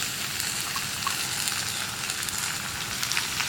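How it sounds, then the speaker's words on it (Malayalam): Chopped onion sizzles steadily in a hot iron pan, a continuous bright frying hiss with small pops and crackles, close and fairly loud with no voices. "ഇനി നമുക്കിതിലേക്ക് നമ്മുടെ സവോള കട്ട് ചെയ്തത് ചേർത്ത് കൊടുക്കാം."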